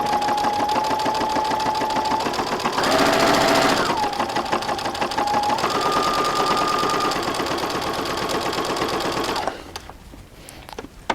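A sewing machine stitches curved quilt pieces in a long, steady run of rapid needle strokes with a whining motor that shifts pitch, pausing briefly, before stopping near the end into quiet room tone.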